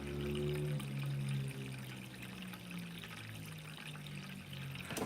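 Water pours steadily into a cooking pot in a home kitchen while steak and shrimp are being prepared, a continuous splashing stream running for several seconds before stopping with a short knock at the end.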